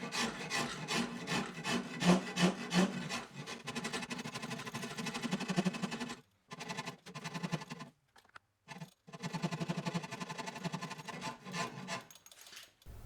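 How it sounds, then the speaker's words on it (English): A rasp files down the handle of an Osage orange wood recurve selfbow in steady, close back-and-forth strokes, with a few brief pauses partway through before the rasping resumes. "Then I'll switch over to my rasp to reduce it further."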